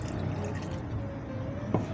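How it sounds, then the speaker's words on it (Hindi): Water pours into browned meat in a pot for aloo gosht, a soft continuous trickling and filling sound, fairly faint and close, ending with a small splash. "अब हम इसमें पानी ऐड करेंगे जितना कि हमारा गोश्त गल जाए"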